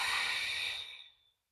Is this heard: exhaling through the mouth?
yes